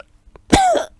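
A single harsh cough, close and loud, with a throaty rasp and a short tail, preceded by quiet breathing and followed by a quick click.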